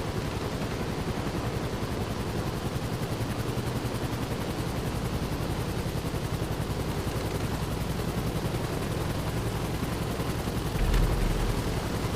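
An NPC fires a minigun continuously from the armored Paragon R, a steady, dense buzzing roar that runs without a break for the whole stretch and swells slightly near the end.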